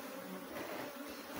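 Honey bees buzzing at an opened hive during feeding with a honey paste and amino supplement mix, a dense continuous hum of many bees close by with no talking.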